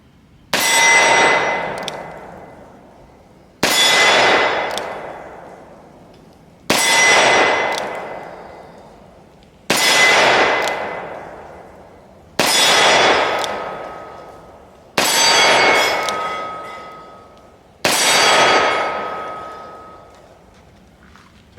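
Revolver shots from a Taurus 692 Tracker and a Colt Python Elite Combat, fired single action for accuracy: seven loud, evenly spaced reports about three seconds apart, each trailing off in a long ringing decay, with no talk.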